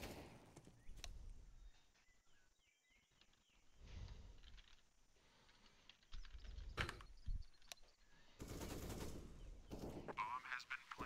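Counter-Strike gameplay with bursts of automatic gunfire and single shots, loud and close, between quieter stretches filled with game noise and player chatter.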